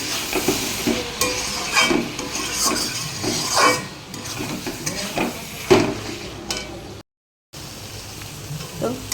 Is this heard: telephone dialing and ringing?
no